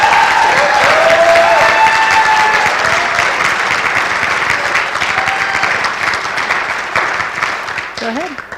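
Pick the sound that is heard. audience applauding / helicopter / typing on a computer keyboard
audience applauding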